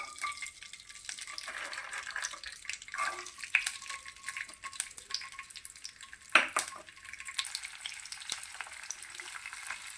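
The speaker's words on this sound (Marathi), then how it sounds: "आपण सर्वात पहिले या बिया तेलामध्ये फ्राय करून घेऊया" Hyacinth bean (ghevda) seeds fry in plenty of oil over a low flame with a continuous bubbling sizzle, broken by a few sharp pops and a louder clatter midway.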